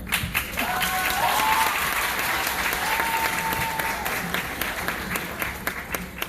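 Audience applause at an elementary school 5th grade graduation ceremony in Circleville, a dense, steady wash of many hands clapping that swells and holds for several seconds, with faint voices threaded underneath.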